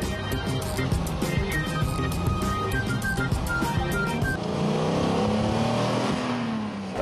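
A 1954 Mercedes-Benz 300 SL engine revs and drives past under music, a mid-distance motor swell that rises and trails off toward the end.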